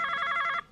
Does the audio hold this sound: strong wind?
no